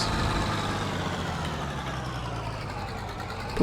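A T25 tractor engine in a farming game runs at a steady, low idle-like rumble as the little tractor pulls forward, continuous and fairly loud throughout with no talk over it.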